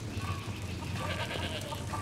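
Moon cow from the Skyrim mod Moonpath to Elsweyr, a video game creature giving a steady, bleating, goat-like lowing call that runs continuously at moderate loudness over low ambient game sound.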